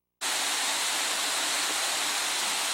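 A small creek on an Appalachian Trail hike flows beneath a footbridge, its steady broadband rush of water starting abruptly and holding loud and even throughout, with no voices.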